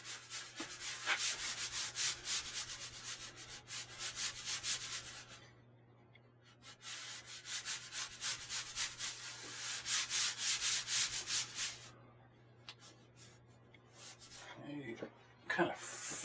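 Chalk scraped across a surface in quick back-and-forth strokes while sketching rolling hills, a dry rasping rub that comes in bursts with short pauses, quiet and close, over a faint steady hum.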